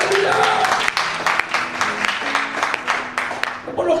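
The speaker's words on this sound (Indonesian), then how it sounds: "Tepuk tangan satu kali lagi." A church congregation claps in a burst of applause that carries over a voice talking through it, with dense hand claps that thin out toward the end.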